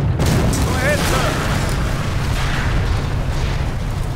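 A base comes under shelling in the World War II strategy game Company of Heroes: Opposing Fronts, with a steady low rumbling barrage of muffled explosions behind radio-style voice lines.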